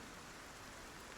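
Steady hiss of rain falling in the video game Project Zomboid, a dense, even patter that stays constant and fairly quiet for a brief moment with no voices.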